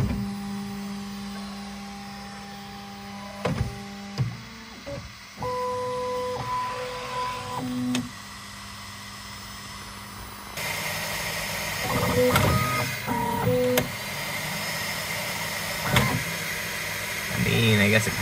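A Bambu Lab P1S 3D printer with its stock nozzle wiper roller runs nearby, giving layered stepper-motor whines and tones, mechanical clicks and shifting whirs over a steady fan hiss, with some voice heard.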